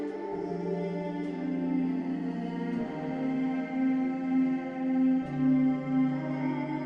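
A dark trap beat's main melody built in Omnisphere plays as slow sustained synth tones, shifting between a few held pitches with soft swells, moderately quiet and without any talking.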